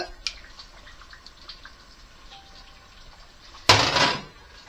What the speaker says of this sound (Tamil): புளி கரைச்சி வச்சுட்டேன் புளி ஊற்றிடுவோம்